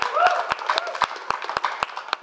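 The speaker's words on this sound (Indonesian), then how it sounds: "Boleh tepuk tangannya buat Mbak Sarah Wijayanto" An audience at an Indonesian comedy roast claps for Sarah Wijayanto: a scattered, fairly sparse run of claps mixed with a speaking voice.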